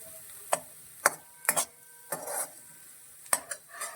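Onion being stirred in a pan over low heat, with a soft sizzle under scattered sharp scrapes and taps of the spatula, close up and without speech.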